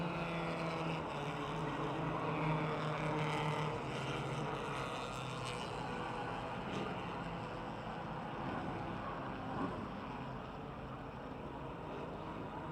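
Modified race cars on the final lap of a heat race at a speedway, a continuous loud engine drone from the field that shifts in pitch as cars pass and fades slightly toward the end.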